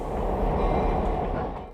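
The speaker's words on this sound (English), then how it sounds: "332 is backing out of the museum onto the North Shore Scenic Railroad" Steam locomotive 332 backs out of a museum onto the North Shore Scenic Railroad, a steady low rumble of rolling wheels and machinery holding at moderate volume, with no voices.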